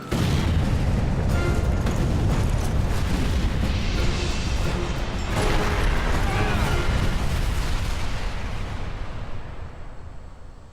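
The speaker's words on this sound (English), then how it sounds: "Did I just get bombed?" A long, loud bomb explosion in Sniper Elite 4 rolls on as a sustained roaring blast with debris rumble, swelling midway and then fading out over its last seconds.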